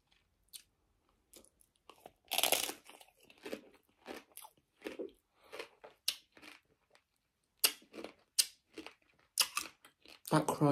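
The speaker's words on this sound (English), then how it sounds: "That crunch." Crisp crunching bites into a frozen fruit roll-up wrapped around ice cream, a series of sharp close-up crunches and chewing sounds spread across the clip, with short bursts of breathy talk in between.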